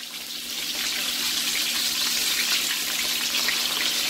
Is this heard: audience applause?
no